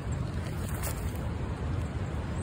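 Wind gusts across a microphone outdoors, a steady dense low rumble filling the whole stretch, fairly loud with no voices.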